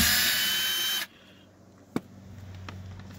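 Power drill whining at high speed for about a second while removing the screws of a door speaker on a Subaru Forester, then stopping abruptly, followed by a sharp click and faint handling noises.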